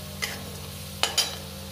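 Tomatoes fry in a pan over a medium flame while a spoon stirs them, a steady low sizzle broken by two or three short scraping strokes, close and fairly quiet with no voices.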